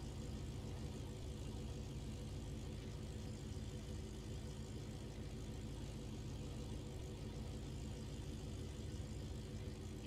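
Engine of an Inibuilds Bf108 Taifun idling steadily while warming up in Microsoft Flight Simulator, a constant low droning rumble at even, faint level with no talk.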